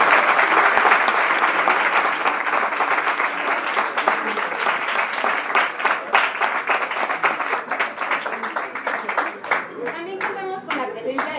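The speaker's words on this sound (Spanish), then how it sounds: "Démosle un fuerte aplauso a Felipe López de Nerón." Audience applause at a university conference on Habermas, dense steady clapping from a large crowd that gradually thins and tapers toward the end.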